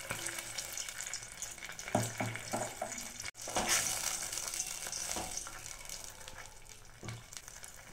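A soy sauce, vinegar and tomato ketchup mix is stirred in a hot pan for a roti pizza, a soft sizzle with several clatters and scrapes of a spoon, brief sharp knocks along the way, and no one talking.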